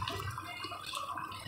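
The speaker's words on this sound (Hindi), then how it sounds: "मैं यहाँ पर थोड़ा सा पानी डालूँगी" Water poured from a vessel into a pan of chicken kofta gravy, a short, close, steady splashing and trickling with no pause.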